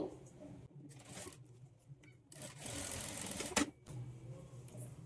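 Sewing machine stitching darts on a beginner's boat neck blouse, a quiet burst of rapid mechanical chatter that stops and starts, with a longer steady run in the middle and soft talk between.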